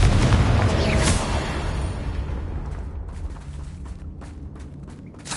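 Confringo fire spell from Hogwarts Legacy blasts with a heavy booming explosion at the start, then a rumble that fades into scattered crackles and debris over several seconds, with no talk.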